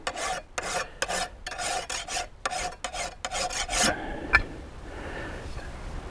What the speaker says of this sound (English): To do those, I recommend the Mill Bastard file.